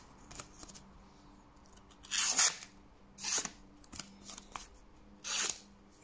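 A knife freshly sharpened on a Lidl Parkside sharpening stone slices through a sheet of paper, making three short, crisp, close rustling swishes spaced a second or so apart, with small paper clicks and handling taps in between and no talking.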